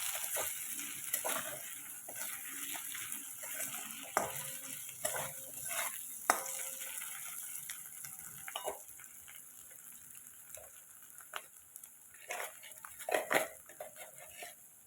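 Salt and turmeric are stirred into a cooking pan for doi patal, giving quiet scraping and clinking strokes of a spoon over a faint sizzle, irregular and close, with no talk.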